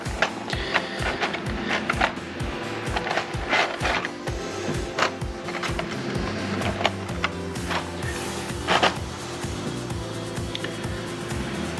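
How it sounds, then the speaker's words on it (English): Two plastic halves of a Mr. Fusion part for a FanHome DeLorean Time Machine model are joined with three screws, giving rapid, rhythmic ratcheting clicks of a screwdriver, close and steady. "put together the 2 halves, and put 3 AP screws to hold it together"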